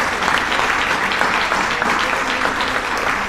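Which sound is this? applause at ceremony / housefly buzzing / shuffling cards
applause at ceremony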